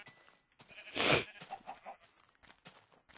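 A Minecraft sheep gives one wavering bleat in the game world, set among other soft clicks and short in-game sounds.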